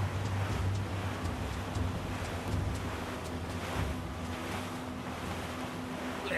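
Ocean waves and wind around a sailing ship in Assassin's Creed Black Flag make a steady broad wash with low rumble and occasional faint creaks, continuous and moderately loud, no voices.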